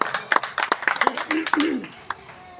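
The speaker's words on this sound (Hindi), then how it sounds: "ताली से स्वागत करिए" Audience clapping at a Hindi kavi sammelan poetry event, a burst of hand claps mixed with a host's voice and cheering, fading after a couple of seconds.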